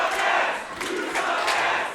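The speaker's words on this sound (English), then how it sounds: "listen to this crowd. All over J. Alpha Miller right now" Wrestling crowd cheering for Jay Alpha Miller at a CEW March Melee match, a loud, dense arena roar with rising swells of shouts that stays steady and full for the whole stretch.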